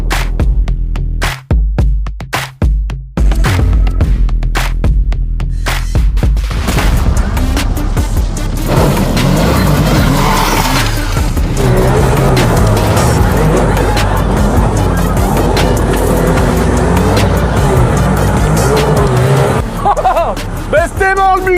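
Buggy engine revving hard through a custom-welded, chimney-style unusual exhaust, loud and close, with repeated sharp blips at first and then a sustained roaring run, voices faintly mixed underneath.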